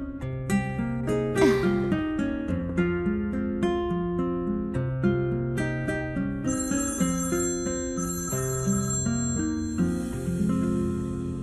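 A mobile phone rings during an outgoing call in a Turkish drama scene, a loud, bright, bell-like melodic tune that plays on continuously without voices.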